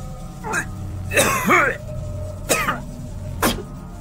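An old Taoist priest gives a single harsh, wet cough in an audio drama, followed by a few short throaty cough-like bursts spread over several seconds, close and clear over a low background hum.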